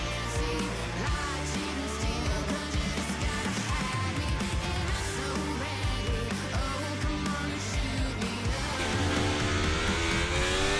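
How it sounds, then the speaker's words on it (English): A Haas Formula 1 car in an F1 racing game drives down the pit lane at Hungary, its engine droning steadily under layered game sound, with tire noise and other cars passing close by. "Great Ace brings the Haas down pit road, making his stop"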